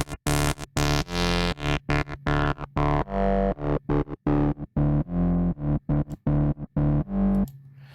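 A modular synth sequence plays with its low-pass filter cutoff lowered, loud choppy rhythmic notes that sound dark and muffled, alone without talking.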